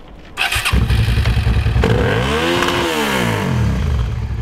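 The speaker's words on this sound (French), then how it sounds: "On passe maintenant au SV avec pot exil" Suzuki SV motorcycle fitted with an aftermarket Exil exhaust starts up and is revved hard, loud and close, with rising and falling engine sweeps and a rough rumble throughout.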